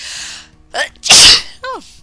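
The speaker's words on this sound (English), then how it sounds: "I need to sneeze." One loud, close sneeze, preceded by a sharp inhaling gasp and followed by a short breathy exhale.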